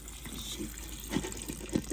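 Hot water pours steadily into a cooking pot for Liberian torborgee bean soup, a continuous close splashing gush with a few louder splashes near the end.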